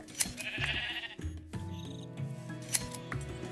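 Minecraft sheep bleating in the game, several short nasal bleats in quick succession over light game sounds, close and clear with no talk.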